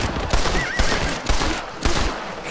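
Four sharp gunshots in Red Dead Redemption, fired at a horse, spaced evenly about half a second apart, loud and close over a steady background din.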